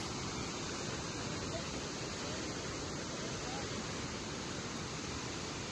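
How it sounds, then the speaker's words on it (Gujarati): Water rushing from the opened gates of the Hiran 2 dam in Gir Somnath, a continuous broadband roar that stays steady and fairly distant, without any break. "ગીર સોમનાથના હિરણ 2 ડેમના તમામ દરવાજા ખોલવામાં આવ્યા છે"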